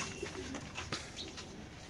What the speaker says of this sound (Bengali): এটা একটা অ্যান্ড্রফ কবুতর, সাথে কিন্তু বাচ্চা আছে একটা